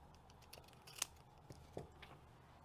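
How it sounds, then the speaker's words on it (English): A few quiet, crisp scissor snips trim a Forever Low Temp Laser Dark heat transfer label, heard close against a soft, low background. "I'm going to go ahead and cut a label. Give it a little trim here."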